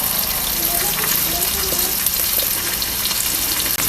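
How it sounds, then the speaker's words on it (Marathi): Rava-coated fish pieces deep-frying in oil, producing a loud, dense, continuous crackling sizzle that fills the whole stretch up close. "हे तेलामध्ये आपल्याला तळून घ्यायचं आहे"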